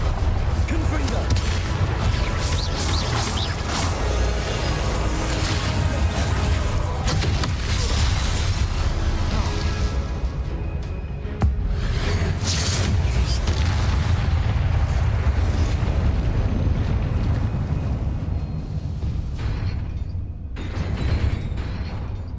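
Repeated Confringo fire spells bursting in Hogwarts Legacy, dense booming blasts and crashes rolling through the whole stretch with game music and effects layered underneath.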